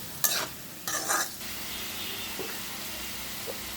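Potatoes fry in a pan with a steady, soft sizzle underneath a few short, brisk scraping stirs near the start, close up and without speech.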